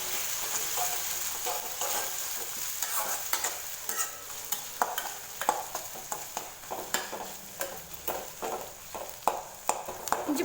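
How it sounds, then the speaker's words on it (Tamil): Ginger garlic paste sautéing in a frying pan, a steady close sizzle broken by regular scraping and stirring strokes of a spatula against the pan, with no voices. "இஞ்சி பூண்டு பேஸ்ட் சேர்த்துட்டு நல்லா வதக்கி விட்டாச்சு."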